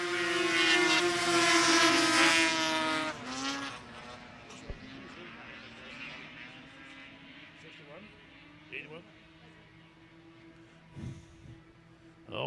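Race snowmobiles, including an Arctic Cat, roar loudly around an ice oval on a frozen pond in central Minnesota, the high engine whine peaking early then fading as the pack moves off, with an announcer talking over it.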